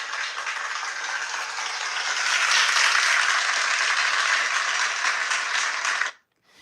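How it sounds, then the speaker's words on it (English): A studio audience gives a round of applause, a dense, steady wash of clapping that swells slightly, holds for about six seconds, then cuts off abruptly. "let's give that a round of applause"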